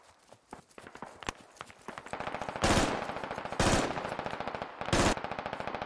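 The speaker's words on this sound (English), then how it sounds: "Yeah, we're taking enemy fire from northwest now," Sustained automatic gunfire in a Squad battle, rapid bursts growing louder and denser midway with several heavy, close volleys cutting through a constant rattle of shots.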